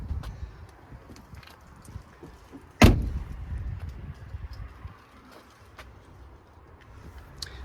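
A Volkswagen Caravelle 2.0 BiTDI seven-seater van door is shut once with a single solid thud partway through, surrounded by quiet ambient background and no talking.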